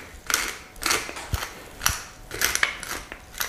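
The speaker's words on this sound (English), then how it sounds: "grinding pepper is always just fun" A pepper mill grinds black pepper onto a rack of lamb in a series of short, close, crunchy rasping bursts separated by brief pauses.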